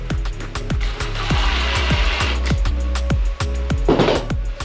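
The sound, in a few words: driving screws into a Milwaukee Packout crate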